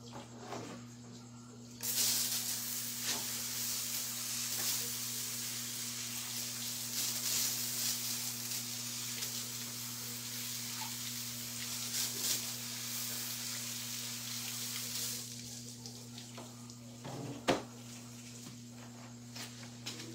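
A steady hiss of rushing water runs throughout, loud and continuous, over a low constant hum, with a brief knock near the end.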